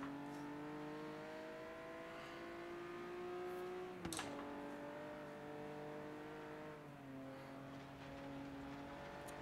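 In the Forza Horizon 3 video game, a car engine drones steadily while driving on dirt, with rising and falling revs, a brief sharp knock or gear shift partway through, and continuous loud road noise throughout.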